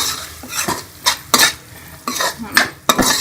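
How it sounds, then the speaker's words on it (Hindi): Spices stir-fry in a pan for stuffed capsicum, heard as a series of sharp metal-on-metal scrapes and clanks from a spoon against the pan, coming in bursts over a soft sizzle. "इसको अच्छी तरह से भून लूँगी मसाले को, तो हम मिक्स करके अच्छी तरह से भून लेंगे सारे मसाले को"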